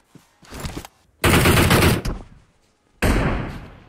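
Loud sniper rifle shots in PUBG Mobile, two heavy cracks with long ringing decays separated by a pause, preceded by a fainter shot, with no talking.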